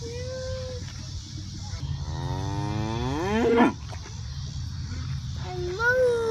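Angus cattle moo in a long, rising and falling call, loud and close, followed by a shorter moo, heard outdoors with people talking nearby.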